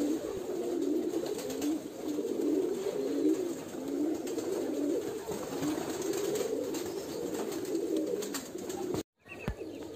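Pigeons cooing at a pigeon farm in the morning, with overlapping low, throaty coos rolling on continuously nearby, a few faint chirps, and a brief cutoff near the end.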